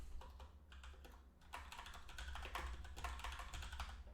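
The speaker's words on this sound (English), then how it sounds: "Not sure what I'm typing here." Computer keyboard keys tapped in irregular bursts during a programming lesson, close and fairly quiet, with brief pauses between clusters of keystrokes and no talk.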